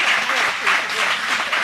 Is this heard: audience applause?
yes